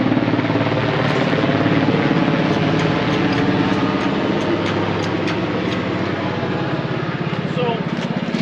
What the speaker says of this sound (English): This helicopter won't fuck off.